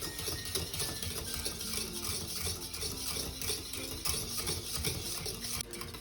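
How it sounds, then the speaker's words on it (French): A thick lemon cream for a lemon meringue tart is stirred in a saucepan just lifted off the hob, giving a steady, busy scraping and swirling that runs without a break. "On va bientôt arrêter de remuer."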